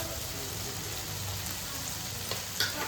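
Ground coriander and chilli powder fry in a pan for sprout sambar, giving a faint, steady low sizzle with a couple of soft spoon clicks near the end.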